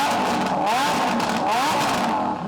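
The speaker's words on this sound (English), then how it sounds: "Give it a rev." A rally car engine revs hard at the start line, rising and falling in loud wavering surges that fill the whole moment up close.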